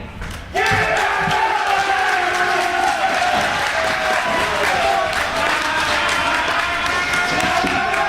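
Wrestling fans in an arena clap during a Jonathan Gresham versus Cedric Alexander match, a rhythmic crowd clapping that bursts in suddenly and keeps going loud, with chanting voices and crowd noise mixed in.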